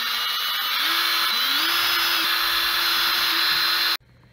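A power drill whines steadily and loudly up close while working a stripped screw loose on a car, pitch shifting slightly, then cutting off abruptly near the end.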